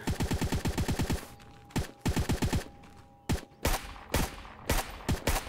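Bursts of automatic gunfire in a video game: a fast rattling string of close, loud shots, then shorter clustered bursts separated by brief gaps, each shot sharp and punchy.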